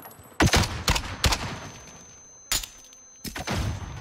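Gunfire in Call of Duty Warzone (Cold War), several sharp loud bursts of shots separated by short pauses, close and punchy.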